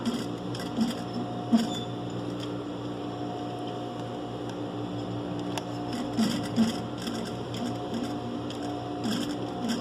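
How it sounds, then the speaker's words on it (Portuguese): Sewing machine set to 4 stitches per centimetre runs in a steady mechanical whir, close and continuous, with a few brief clicks and knocks rising above the drone. "Lembrando da máquina tá regulada 4 pontos por centímetro"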